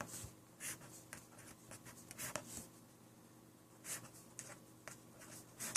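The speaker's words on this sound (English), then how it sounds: "So we write down the columns." Pen or marker writing out matrix columns during a linear algebra problem, a close series of short scratchy strokes and taps in irregular bursts with pauses, no talking.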